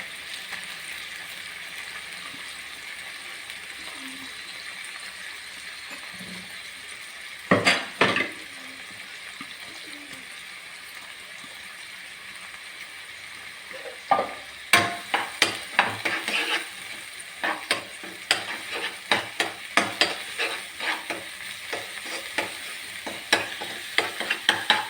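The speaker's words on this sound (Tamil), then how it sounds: "அரைச்சி வச்ச கண்டென்ட் வந்து நமக்கு நல்லா மிக்ஸ் பண்ணலாம்" A ground paste of coconut, cumin and onion fries in a pan for an egg and green peas podithuval. A soft, steady sizzle is broken by a burst of utensil scraping midway, then busy, repeated stirring clatter toward the end.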